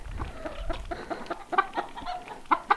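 Chickens cluck in short, repeated bursts close by outdoors on a farm where young kittens are exploring, with a steady low rumble underneath and no talking.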